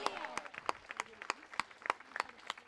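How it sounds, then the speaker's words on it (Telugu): A church congregation claps loudly in a quick, steady rhythm of sharp, evenly spaced claps that keep a regular beat for a few seconds. "కొట్టు చప్పట్లు గట్టిగా."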